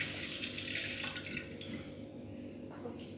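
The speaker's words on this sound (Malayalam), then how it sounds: "അപ്പൊ നമുക്ക് ഈ പാലിലോട്ട് ഒഴിക്കാം" A blended mixture for homemade tutti frutti vanilla ice cream is poured into milk, making a soft, steady liquid trickle that runs quietly and evenly throughout.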